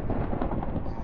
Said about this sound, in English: Oh, I almost got hit by lightning.